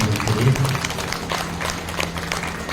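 Crowd applause at a Shrimad Bhagwat Katha religious gathering: a dense, steady patter of many hands clapping, with a voice speaking briefly at the start.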